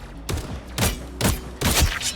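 Rapid bursts of Punisher gunfire in the hero shooter Marvel Rivals, four loud clustered volleys with short gaps between them, nearby and without voices.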